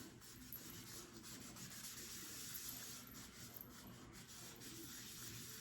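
A scrub pad rubs dirt off a car headlight lens in steady, continuous scouring strokes, close and fairly quiet, with no talking.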